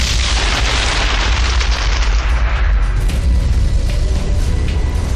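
A massive asteroid impact explosion: a loud, sustained roaring blast with deep rumbling low end and broadband crackle, continuing without a break and easing slightly toward the end.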